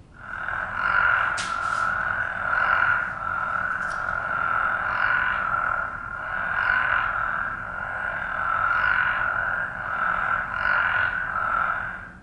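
A chorus of frogs calls together at vernal pools, a dense continuous pulsing trill that swells and eases in waves for the whole stretch, loud and close with no voices over it.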